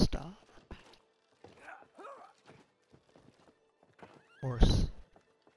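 A horse in a video game whinnies loudly near the end, after scattered thuds, clip-clop hoofbeats and other animal sounds, with someone talking briefly between them.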